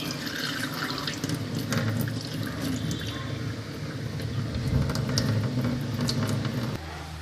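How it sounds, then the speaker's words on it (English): Water is drained off washed rice for chicken kabsa, a continuous splashing, trickling pour in a kitchen with small drips, steady and close before it eases off near the end. "Then I should drain off the water."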